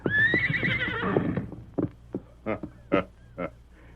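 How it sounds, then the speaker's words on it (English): A great white stallion whinnies loudly while being saddled, a long rising-and-falling neigh followed by several snorts and soft hoof thuds, close and alone without talk. "a masked man was saddling a great white stallion, while an Indian mounted on a paint looked on"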